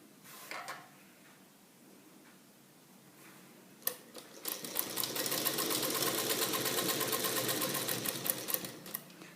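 A sewing machine stitching a kurta placket facing, starting with a few short bursts and clicks, then settling into a fast, steady run of close, rhythmic needle chatter that eases off at the end.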